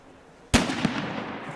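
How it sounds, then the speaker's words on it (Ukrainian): An anti-tank mine blown up in a controlled detonation by bomb-disposal specialists, one sudden loud blast followed by a quick second crack and a rumbling decay, with no voices. "Вибухотехніки вирішують коробку підірвати."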